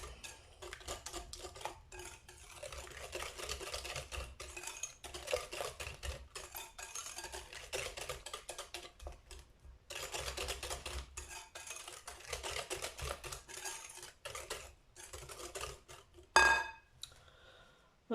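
Lemon cake batter, a Valencia-style citrus cake, being mixed in a bowl with oil just added: a steady scraping, clinking stir of utensil against the bowl, continuing for most of the stretch with brief pauses and a sharper clank near the end.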